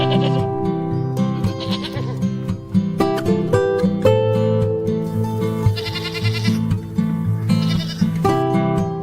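Goats bleat loudly and repeatedly in a barn on a dairy farm, with several drawn-out, wavering calls overlapping one another and no talk.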